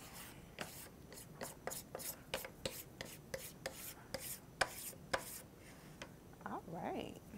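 Brush strokes scrubbing chalk paint across a wooden fall-themed tiered tray, a steady series of short dry rubbing swipes, close and fairly quiet, ending with a brief softer rustle.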